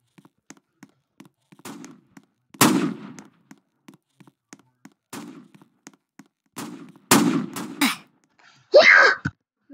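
Gun sounds from the Roblox game Brookhaven: several sharp, loud bursts scattered among softer ticks and short clicks, with a breathy hiss near the end, and no talking.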